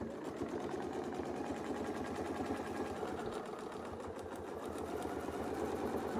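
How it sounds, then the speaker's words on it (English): A sewing machine stitches a quilt guided by Westalee ruler templates, running as a steady, continuous mechanical hum and whir close by, with no pauses and no talking. "I'm just going to sew this"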